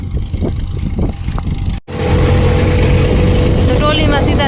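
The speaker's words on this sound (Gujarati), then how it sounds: "એક છે પાર્થભાઈનું ટ્રેક્ટર ને એક છે મેહુલભાઈનું ટ્રેક્ટર" Tractor engines running steadily during coriander threshing on a village farm, a loud continuous rumble that grows fuller after a brief dropout, with people talking over it.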